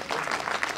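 Brief burst of audience applause at an outdoor conference gathering, steady dense clapping lasting under a second.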